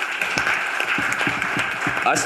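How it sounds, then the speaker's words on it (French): Crowd applause at the youth movement congress of the UNIR party fills the room in a continuous patter while a voice speaks loudly over it. "Applaudissements"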